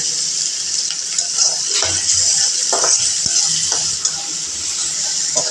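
Dried shrimp frying with bottle gourd greens in a pan, giving a steady loud sizzle with occasional stirring scrapes and clatters, close and without talk.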